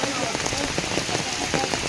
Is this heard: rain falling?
yes